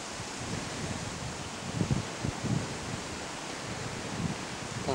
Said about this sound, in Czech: Fouká to pěkně.